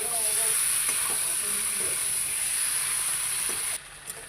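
Meat braising in a hot pan as it is stirred, giving a steady, close sizzle and hiss throughout with soft scraping stirs, the sizzle dipping near the end.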